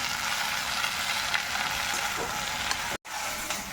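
Vallarai keerai greens sauté in a hot pan with a dense, continuous sizzle and crackle, close and fairly loud, broken by one abrupt instant of silence near the end.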